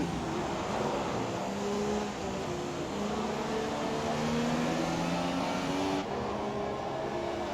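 A McLaren race car powers through the Arena turn section of a British circuit, its engine a sustained loud roar with rising and falling pitch sweeps through the corner, and no talk.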